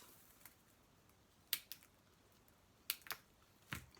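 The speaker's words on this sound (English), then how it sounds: "you cut up some grass" Scissors snip up grass for a sensory bottle, giving a few sharp, quiet clicks spaced irregularly against a near-silent background, with no talking.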